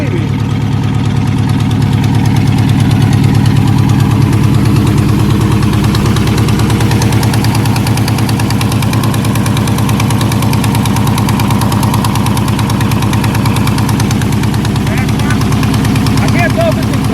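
A junkyard LS V8 with an eBay cam idles in a cheap Chevy S10 drag truck, loud and close, with a steady choppy lope and rapid rhythmic exhaust pulses throughout, heard alone.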